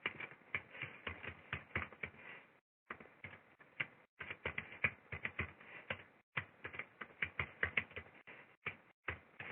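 Typing on a computer keyboard: quick, close, crisp key clicks come in irregular bursts with short pauses, and no voices are heard.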